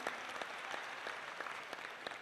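A crowd claps in thanks at a Hanuman Chalisa recitation gathering at Bageshwar Dham. The applause is steady and rhythmic, with sharp claps repeating at a regular beat and no talk over it.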